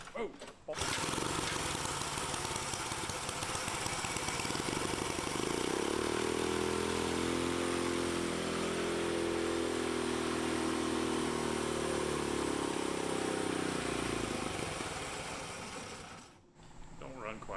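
An engine with a faulty, non-new carburetor idles loudly and roughly, a steady rattling drone with a deeper settled stretch midway before it fades briefly near the end; voices talk at moments over it.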